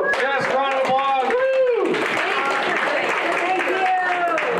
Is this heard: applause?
yes